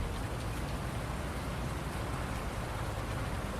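Steady rain in Farming Simulator 19 hisses continuously as a dense, even wash of drops on surfaces, with no other sounds standing out.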